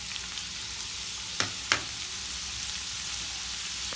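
Chopped onion frying in hot oil, a steady broad sizzle throughout with two brief sharp clicks from a utensil partway through.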